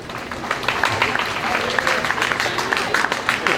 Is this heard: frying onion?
no